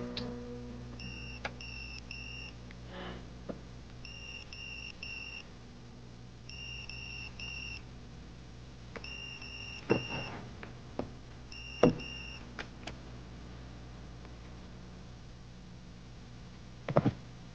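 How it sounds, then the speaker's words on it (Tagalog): Pager beeping in a dramatic film scene, repeated bursts of short high electronic triple beeps at regular intervals over a low hum, with a few sharp clicks in between. "Sinong nag-beep sa'yo?"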